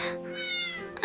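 A small, weak kitten cries in a single drawn-out, high wavering meow, close and fairly soft, ending in a brief sharper bit.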